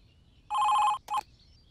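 A telephone rings in an indoor scene from a Kannada feature film, an incoming call. There are two close, loud bell bursts, a long one followed by a short one, over a faint background with no talking.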